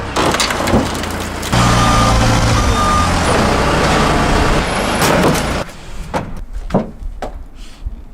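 A forklift rated for 6,000 pounds lifts and carries a car, with a loud engine drone, creaks and clunks, then the engine cuts out, leaving scattered knocks and bangs.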